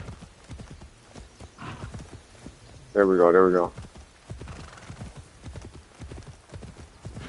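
Hooves of a ridden horse clip-clop steadily on a steep path in the video game Assassin's Creed Shadows, with a brief neigh in the middle, while someone talks over it.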